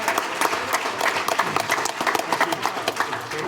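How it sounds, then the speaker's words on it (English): Audience applause at a celebrity roast, with a roomful of people clapping steadily and densely, loud and sustained, without pauses. "Let's give Robert one more big round of applause."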